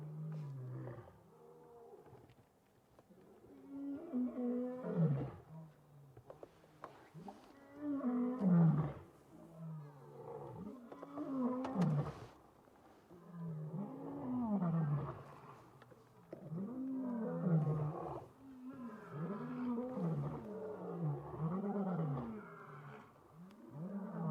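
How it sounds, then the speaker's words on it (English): Lions roaring on a morning safari drive, heard from a vehicle: repeated deep grunting roars in rhythmic series, fairly distant yet clear, rising and falling over the full stretch with no talk. "We've got lions roaring all around us"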